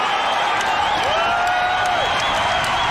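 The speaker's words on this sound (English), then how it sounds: "Listen to the crowd react." A packed UFC arena crowd at the Cox Pavilion roars steadily through a fight, a loud continuous wash of cheering and shouting with whistles rising over it, the noise never letting up.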